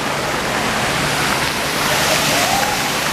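A waterfall rushes loudly and steadily at close range, a dense broadband roar of falling water with no break, from beside the pool at the foot of the falls.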